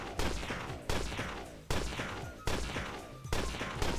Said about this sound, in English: And then I have to shoot it